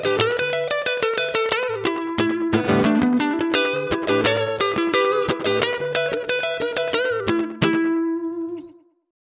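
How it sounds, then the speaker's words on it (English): Guitar-like phrase run through iZotope Trash delay with distortion added to the echoes, a steady stream of plucked notes with repeating trails that decay and cut off cleanly at the end. "You can also add distortion to the delayed sound with the trash slider."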